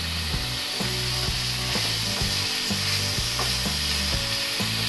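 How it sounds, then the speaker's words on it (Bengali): Chicken and sliced tomatoes frying on a tawa give a steady, close sizzle with a constant oily hiss that runs through the whole stretch, no voices. "একটু ভাজা ভাজা হলে এর মধ্যে আমি স্লাইস করা টমেটোগুলো দিয়ে দিচ্ছি।"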